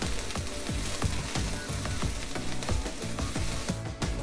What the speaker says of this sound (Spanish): voy a poner media cebolla blanca que tengo aquí cortada en plumitas, la vamos a dejar dorar muy bien